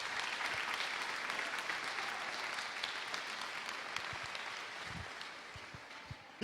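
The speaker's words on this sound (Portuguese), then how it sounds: "Cadê as palmas?" Audience applause during a Portuguese-language church sermon, steady, dense clapping from a sizeable crowd that holds evenly throughout at moderate distance, with a few low thumps near the end.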